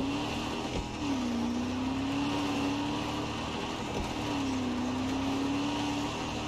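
Car driving in Far Cry 6, a steady engine drone rising and settling in pitch twice with a faint thump, close and alone with no talk.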